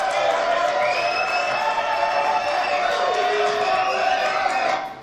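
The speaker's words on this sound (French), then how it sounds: "Applaudissements, s'il vous plaît." Studio audience on a French regional TV talk show applauding and cheering, a loud dense crowd wash sustained for about five seconds before cutting off.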